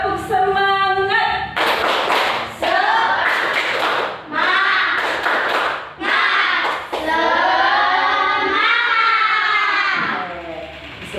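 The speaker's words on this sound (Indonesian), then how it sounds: "kita tepuk semangat dulu yuk" Children in an elementary school classroom chant together in rhythmic bursts, their voices punctuated by group claps and thumps. The sound comes in short repeated phrases with brief pauses between them, loud and close.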